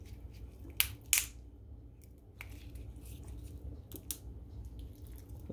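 Scissors snip through a lobster tail shell in a few sharp, close crunching cuts spaced apart, with quiet kitchen handling noise between them.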